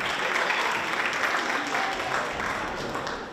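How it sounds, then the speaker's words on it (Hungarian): A crowd at a magician's stage show applauds the performer's assistants, a continuous wash of clapping that stays fairly even, heard from a slight distance and tapering slightly toward the end. "Egy nagy tapsot a segédeinek"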